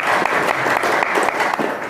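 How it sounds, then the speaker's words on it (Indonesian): Audience applause at a Nahdlatul Ulama gathering in South Sumatra, a steady dense clapping from a large crowd filling the whole moment at even loudness. "tepuk tangan."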